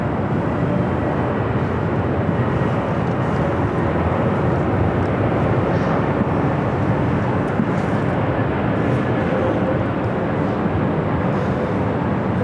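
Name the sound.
Delta Boeing 767-300ER plane departing to Honolulu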